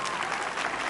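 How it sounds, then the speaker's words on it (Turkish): A brief burst of steady outdoor applause from an audience at a melon and okra tasting contest in Silivri, fairly faint and even. "Onlara büyük bir alkış istiyorum Ahmet Bey'e."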